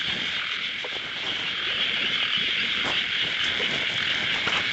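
Frogs croaking in a flooded rice field during rain, a dense chorus of scattered croaks over a constant high insect-like trill, steady and moderately loud with no talking.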